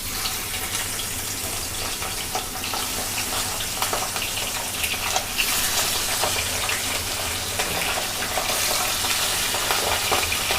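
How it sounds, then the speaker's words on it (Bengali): Pabda fish frying in hot oil in a pan, giving a steady, dense sizzle and crackle that stays loud and close for the whole stretch, with no talking. "আমার তেল গরম হয়ে গেছে, আমি একে একে মাছ দিয়ে দেব।"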